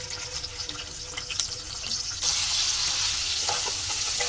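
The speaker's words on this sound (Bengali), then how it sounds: "ভালো করে এটা একটু লাল লাল করে ভেজে নেবো" Chopped onion frying in hot oil with cloves, cardamom, cinnamon and mace, a continuous close sizzle with stirring that grows louder and fuller partway through.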